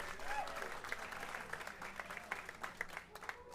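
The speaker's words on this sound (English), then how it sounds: "How about a round of applause for Terry Myers?" An audience applauds at a jazz society hall of fame show, quiet scattered clapping with distinct individual claps, faint and somewhat distant.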